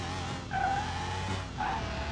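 An Audi RS6 launching hard in Car Mechanic Simulator 21, a loud engine drone with two sharp bursts of tyre squeal, no talking.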